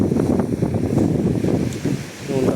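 Wind gusts across a beach and buffets the microphone in uneven, loud bursts, with faint surf in the background.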